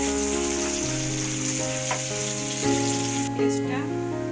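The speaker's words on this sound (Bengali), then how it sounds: "ভালো করে ভেজে নেব।" Onion frying in oil for beef khichuri gives a constant soft sizzle beneath steady background music, with a faint stirring sound near the end.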